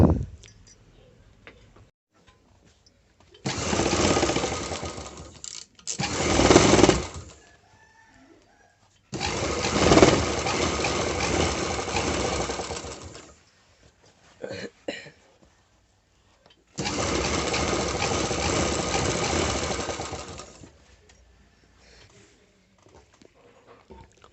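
A sewing machine stitching an embroidered blouse runs in three bursts of rapid, even mechanical whirring, each lasting several seconds, separated by quiet pauses with faint handling noises.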